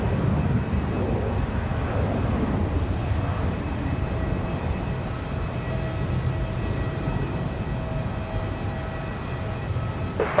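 A Southwest airliner departs Raleigh-Durham International Airport on a windy day, producing a steady, distant jet roar and rumble that holds at an even level throughout, with no voices.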